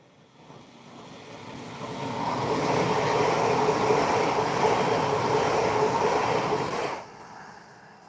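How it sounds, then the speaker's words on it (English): A Pendolino and a class 331 train pass each other on adjacent tracks, a broad rushing roar that swells over a few seconds, holds steady and then cuts off sharply as the trains clear. "There goes a Pendolino, and here we got a 331 coming the other way."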